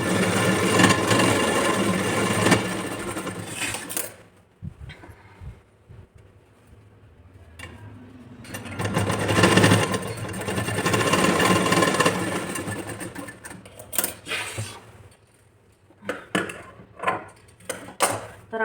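A sewing machine stitches a princess-cut blouse in bursts of fast mechanical whirring and clatter, separated by quiet pauses and short clicks, close and fairly loud.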